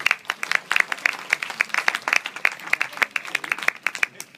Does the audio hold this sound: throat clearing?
no